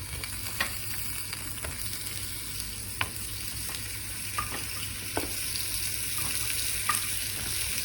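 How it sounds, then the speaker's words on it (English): Potatoes fry in vegetable oil in a pan on a stove turned to maximum, giving a steady, moderately close sizzle with scattered crackles and small pops, and no one talks over it. "She's adding some vegetable oil. Now she's gonna fry the potatoes."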